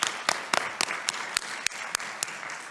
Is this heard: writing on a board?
no